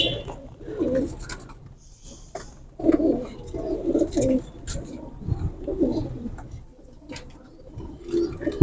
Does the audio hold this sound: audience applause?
no